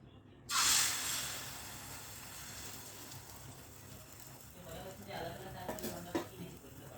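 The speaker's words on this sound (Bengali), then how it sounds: "ডিমটা ফেটে নিলাম এখন ভেজে নিব" Salted beaten egg hits a hot pan with a sudden loud hiss, then settles into a steady, softer sizzle, with a few faint clinks of a utensil near the end.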